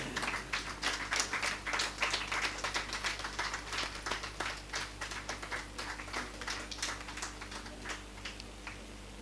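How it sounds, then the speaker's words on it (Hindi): Sustained audience clapping at an Urdu mushaira poetry gathering in Jabalpur, dense and steady at first, then thinning into looser individual claps, heard from within the hall over a low background hum. "आप सब तालियां बजाकर उसमें शामिल हो जाएंगे।"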